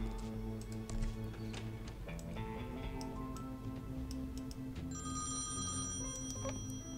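A telephone rings in the point-and-click adventure game Thimbleweed Park: a steady electronic ring, heard alone at moderate level over faint ticking, with no talking.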